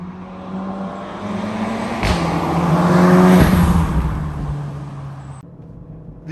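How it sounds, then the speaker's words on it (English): A Volkswagen Golf R with a titanium exhaust drives past, its engine note climbing through a gear and dropping again with a sharp crackle at the shift, swelling loud mid-clip and then fading away. "For a titanium, very, expensive option, it sounds lovely, and it sounds better on the upshifts and the downshifts."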